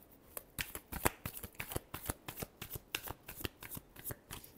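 Tarot cards are riffled and shuffled close up in a quick, steady series of crisp flutters and slaps, repeated about twenty times with no talk over them.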